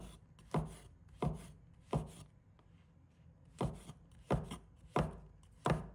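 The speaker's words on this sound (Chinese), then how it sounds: "适量的香菇，把它切成片。" Shiitake mushrooms being sliced with a knife on a cutting board, a series of crisp, sharp taps spaced unevenly, about eight cuts in all, close but fairly quiet, with no voices.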